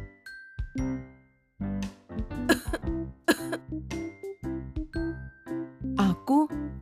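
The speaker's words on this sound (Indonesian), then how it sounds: "batuk terus." An animated cartoon character coughs repeatedly in loud, close, jerky bursts with throat-clearing sounds, mixed with brief tinkling jingle tones in a children's educational cartoon.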